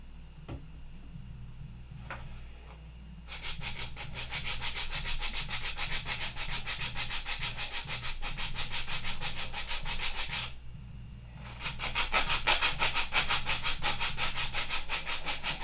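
A Gen 4 horn clip is hand-sanded with rapid, rhythmic back-and-forth rasping strokes in two long bursts, separated by a brief pause and preceded by a few small clicks, close and fairly loud over a low steady hum.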